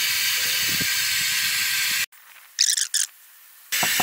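Fluid extractor drawing transmission fluid from the pan of a 2016 GMC Sierra with the 8L90 transmission: a loud, steady suction hiss that cuts off abruptly, followed by brief gurgling spurts, then the hiss resumes.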